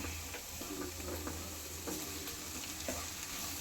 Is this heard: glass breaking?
no